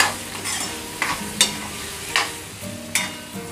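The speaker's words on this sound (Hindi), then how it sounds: "अब हम इसमें 1 मीडियम साइज का टमाटर ऐड करेंगे, स्वाद अनुसार नमक और इसे मिक्स करेंगे।" Spoon stirring medium tomato and salt into aloo palak in a pan, soft scraping strokes repeating about every half second over a gentle background sizzle, close and fairly loud.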